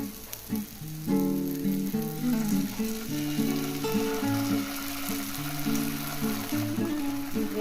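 Chopped tomato and tomato sauce sizzle steadily in a pan for Indian-style masala macaroni, a continuous close frying hiss running beneath melodic background music.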